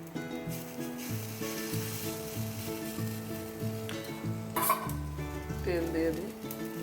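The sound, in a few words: idli sizzling while being toasted in a pan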